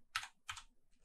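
Keys tapped on a computer keyboard while entering a Kruskal-Wallis test command in RStudio: two close, crisp keystroke clusters followed by a fainter third, no voice.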